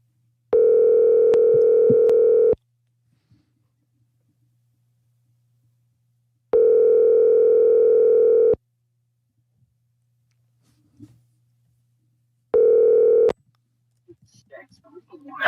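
Outgoing telephone call ringing out, three long electronic ring tones separated by silence, then faint sounds as the call connects.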